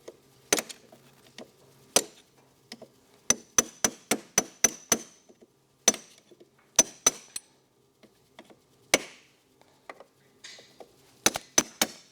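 Sharp metallic hammer strikes knock off bolt retainers on a Ski-Doo Rev 827 big bore snowmobile axle and chaincase, ringing out in irregular bursts, some in quick runs of several blows, others single, with quiet gaps between.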